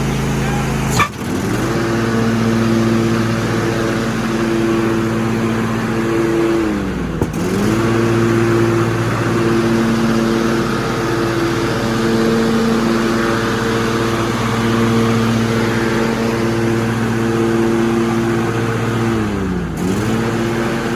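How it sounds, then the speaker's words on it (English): A John Deere D140 lawn tractor engine runs steadily and loudly up close, with a constant droning hum that dips briefly a couple of times as the throttle changes, and a sharp knock near the start. "We're going to start the tractor by engaging the clutch."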